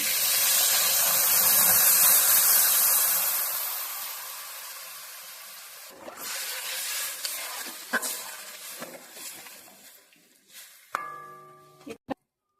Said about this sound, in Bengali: এবার আমি জল দিয়ে দেবো সিদ্ধর জন্য